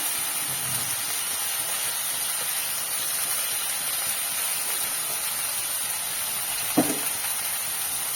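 Eggplant pieces with salt and turmeric fry in a pan with a steady, even sizzle and hiss that never lets up, plus one faint clink near the end.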